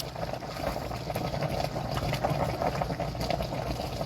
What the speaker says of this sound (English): Going to finish cooking this, and it's going to create a gravy for us.